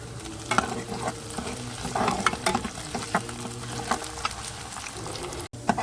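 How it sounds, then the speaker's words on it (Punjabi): A tadka of tempering spices fries in a pan with a continuous crackling sizzle, broken by frequent stirring clicks and scrapes of a utensil, all close and fairly quiet. "ਤੜਕਾ ਭੁੱਜ ਗਿਆ ਆਪਣਾ ਦੇਖੋ"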